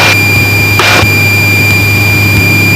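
Cessna 185 piston engine at reduced throttle, a steady close droning hum inside the cabin with constant low rumble and high whine, continuous throughout with no talk.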